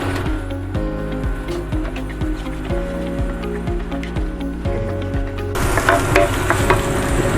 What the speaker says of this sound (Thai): เราก็จะเริ่มผัดแล้วนะครับ น้ำซอสเราได้แล้ว ครับผมก็เอากระเทียมลงไปเลยครับ